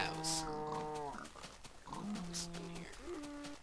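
Cows mooing in the Minecraft video game, several drawn-out bellowing moos in turn at moderate volume, with quiet voices in the background.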